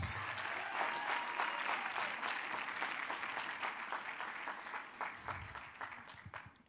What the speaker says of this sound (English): Come on, give the Lord a big clap.